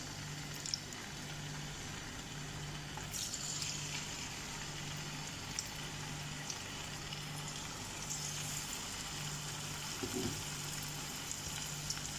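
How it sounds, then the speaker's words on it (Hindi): Mutton pasanda pieces fry in hot oil, giving a continuous soft sizzle and hiss at low volume with a faint steady hum underneath and no speech. "देखिए ऑयल गर्म होने वाला है, तब इसमें एक एक पीस लेके इस तरह से"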